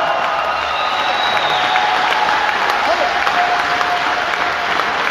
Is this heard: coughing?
no